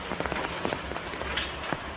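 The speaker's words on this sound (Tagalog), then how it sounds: "Kanina pa kasi ang lakas ng ulan." Heavy rain falls at a rural home with a bahay kubo hut in the Philippines. A dense continuous wash is broken by frequent sharp drop impacts close by, with no voices.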